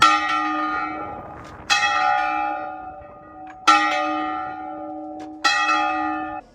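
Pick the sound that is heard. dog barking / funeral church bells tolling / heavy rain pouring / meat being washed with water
funeral church bells tolling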